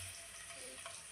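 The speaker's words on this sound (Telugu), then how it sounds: "కర్పాకు వేస్తే టప్ టప్ టప్ టప్ అంటుంది." Curry leaves dropped into hot oil for tempering, a brief steady frying sizzle with fine crackle, close and alone, no voices.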